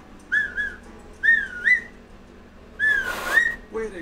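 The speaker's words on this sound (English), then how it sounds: "until you get that high, commanding, loud whistle." Sharp, high finger whistles ring out in short rising blasts, some doubled, with brief quiet gaps and a breathy rush between them.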